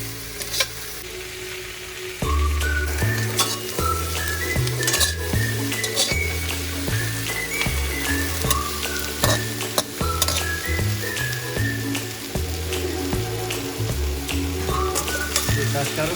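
Shrimp fry in a hot pan for laing with coconut milk, giving a loud, continuous sizzle close by. Metal clinks from stirring break through it now and then, and music plays underneath.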